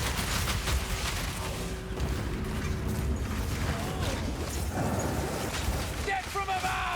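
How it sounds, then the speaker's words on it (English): Dense, continuous barrage of weapon fire in Path of Exile 2 from a Siege Cascade build, with rumbling booms, crackling impacts and mechanical clatter layered over game effects throughout. "You just keep moving and firing."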